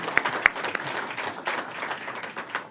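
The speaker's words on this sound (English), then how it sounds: "give him a round of applause" Audience applause at an awards ceremony honoring democracy activists, a steady wash of clapping from a crowd with a couple of sharper claps near the start, moderately loud and sustained throughout.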